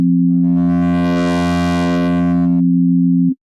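Sustained sine-wave synth tone from Pro Tools PlayCell with the grit macro engaged, giving a buzzy, distorted edge that swells and fades over about three seconds before cutting off cleanly.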